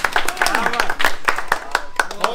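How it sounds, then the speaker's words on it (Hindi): A group claps steadily in sharp, rapid hand claps at a traditional wrestling akhara after a club-swinging (gada) feat, close and lively, while voices talk and cheer over them. "तालियां। क्या बात है।"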